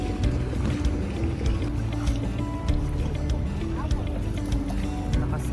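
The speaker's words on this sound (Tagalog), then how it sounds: "So guys, we're doing paraw sailing." A paraw outrigger sailboat moves across open water off Boracay, with a steady wash of water and hull noise running throughout at close range, while people talk over it.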